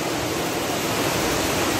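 The Courtallam waterfall at night pours down in a dense, unbroken roar of rushing water, loud and close with no voices.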